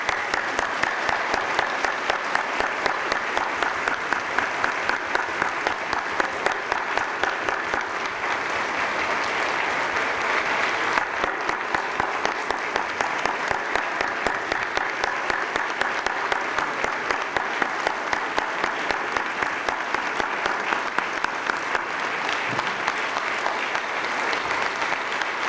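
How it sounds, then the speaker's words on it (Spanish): Sustained, loud applause from an audience at a Mexican state governor's annual report address, steady clapping filling the hall with no speech over it. "un aplauso desde aquí."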